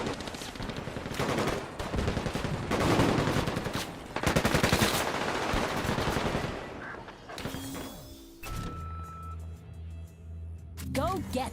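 Rapid machine gun bursts and gunfire crackle through a Combat Champions match, dense and loud for most of the stretch, then dropping to lower rumbling and scattered shots near the end, with a commentator talking over the action.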